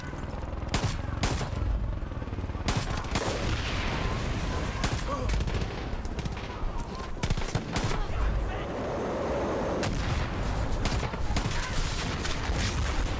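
Repeated gunfire bursts crack through the Far Cry 5 video game on a World War II custom map, sharp shots and rapid volleys over a steady background din.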